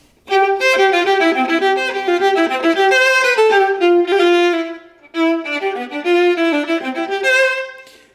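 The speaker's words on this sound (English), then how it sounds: "So now on the first line of the piece, the first few measures, it'll sound like this." A viola playing the fast opening measures of a piece, bright, rapid notes close and solo in two phrases with a short break between them.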